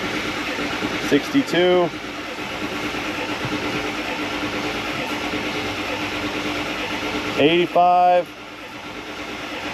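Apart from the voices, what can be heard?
Ford F250 7.3 Power Stroke diesel engine cranking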